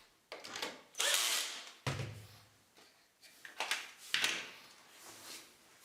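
A power drill drives two screws into a cabinet during a mudroom install, sounding in a few short whirring bursts separated by pauses and handling knocks, close and moderately loud.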